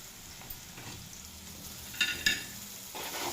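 Onions, green chillies, grated carrot and curry leaves stir-frying in a pan make a soft, steady sizzle, with a few sharp scraping clicks of stirring midway.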